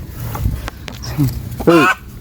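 A hen squawks and clucks agitatedly in short bursts as her egg is taken, ending with a loud, rising squawk, mixed with a person talking and some handling noise.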